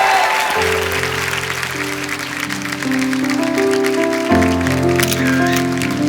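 Studio audience applause on a TV comedy talk show, a steady wash of clapping running the whole time beneath loud sustained music chords.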